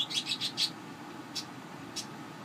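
Pet birds chirp and call indoors in a quick burst of four bright notes, then two more isolated chirps later, fairly close over a low background hum.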